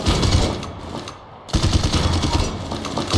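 Rapid automatic gunfire from the player's weapon in Paladins rattles in dense, loud bursts, breaking off briefly before resuming.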